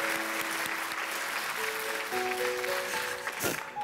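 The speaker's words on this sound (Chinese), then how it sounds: "请大家用掌声给她一点鼓励" Studio audience applause on a Chinese television talk show, a steady broad wash of clapping that carries through the whole stretch at an even level, with a faint background music tone underneath and no voices.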